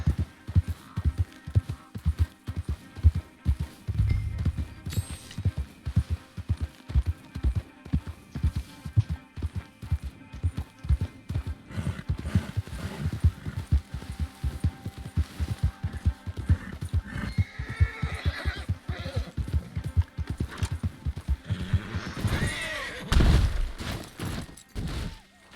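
A horse's hooves clip-clop in a rapid, steady rhythm, close and loud, while the horse snorts and neighs late in the run; the sound comes from a livestreamed video game.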